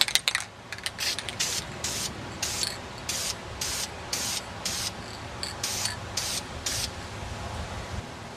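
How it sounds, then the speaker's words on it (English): Rapid short bursts of an aerosol can of Duplicolor low gloss black engine enamel hiss one after another, about a dozen quick puffs, close and fairly loud. The paint is going onto Saiga 20 gauge shotgun parts. "I'm going to hit it with Duplicolor low gloss black engine enamel"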